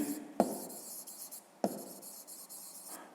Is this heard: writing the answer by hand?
yes